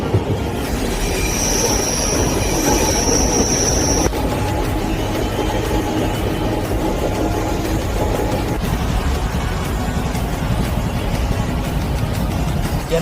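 A Gautami SF Express train running from Kakinada Port to Lingampalli, with continuous wheel rumble and a high squeal from the wheels for the first few seconds, loud and close, no talking.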